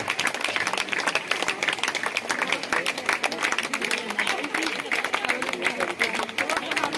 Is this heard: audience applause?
yes